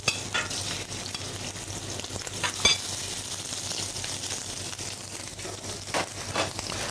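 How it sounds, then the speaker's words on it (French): Small shrimp fry in a pan with a lively, close sizzle and scraping stirring, occasional louder crackles and clatters over a steady hiss, no one speaking. "on va mettre à cuire, excusez-moi, les petites crevettes"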